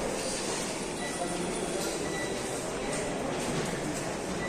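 Inside an airport express metro train, a steady rumbling ride noise runs without a break, with a faint rattle and hiss throughout and no talking.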